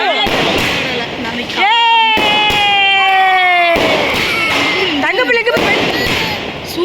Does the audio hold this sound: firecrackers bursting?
yes